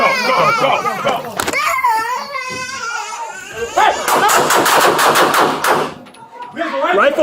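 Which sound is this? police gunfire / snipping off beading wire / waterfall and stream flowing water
police gunfire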